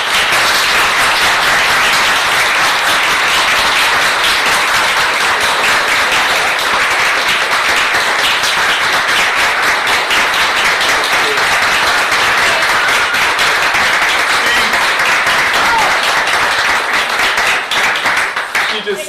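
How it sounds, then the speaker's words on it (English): Sustained loud applause from the audience at a township board of trustees meeting honoring 25 years of service, dense continuous clapping from start to finish with a few voices mixed in. "Let's give Debbie a round of applause."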